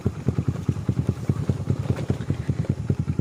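A dirt bike motorcycle engine putters at idle nearby, a steady fast thudding rhythm of exhaust pulses with a slight rattle, heard alone.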